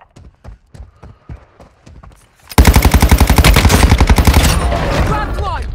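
Gunfire from a VEL 46 (MP7) submachine gun in the mobile battle royale game Warzone Mobile: a few scattered single shots, then a loud, rapid sustained burst of automatic fire that trails off slightly.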